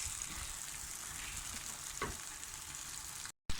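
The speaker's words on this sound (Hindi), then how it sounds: "यहाँ मैं डाल देती हूँ अब 3 अदद आलू। और इनको अच्छी तरह से भून लें।" Three potatoes frying over high flame in a pan, a steady, dense sizzle close up with a brief stirring scrape, then a sudden cut to silence near the end.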